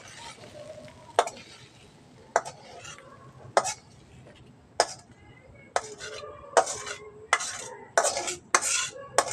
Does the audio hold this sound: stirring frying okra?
yes